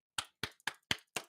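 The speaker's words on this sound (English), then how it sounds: "Clap it up. Clap it up." Five evenly spaced hand claps ring out crisply, close and moderately loud in a quiet setting, each a sharp slap with a short tail.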